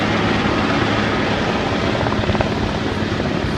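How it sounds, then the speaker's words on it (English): A South African military helicopter flies in to land at a smoke-marked spot during a demonstration at the Rand Easter Show, heard as a loud, steady, close rotor and engine roar filling the whole moment. "second orange helicopter that will be picking up the mortar crews. Smoke is on the ground indicating where to land, and they are inbound"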